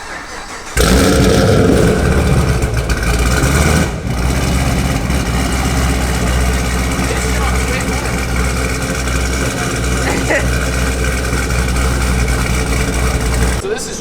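A supercharged Procharger car engine with a Holley setup starts and settles into a loud, rumbling idle close by, with a brief dip in the sound before the steady idling continues.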